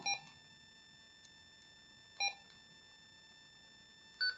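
Key beeps on a Retevis GMRS handheld radio while setting its light color, three short electronic tones spaced about two seconds apart, clear and alone against a quiet background.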